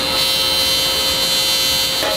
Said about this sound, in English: Got like 4 more little welds.